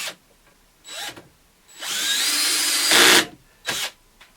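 Power drill driving a screw into a pocket hole jig joint, short whirring bursts followed by a longer rising whine as the screw bites into the wood, close and fairly loud.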